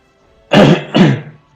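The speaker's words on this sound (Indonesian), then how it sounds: "Sorry kalau agak batuk ya" A hoarse person coughs twice up close, loud and husky, with the second cough following the first after a short gap.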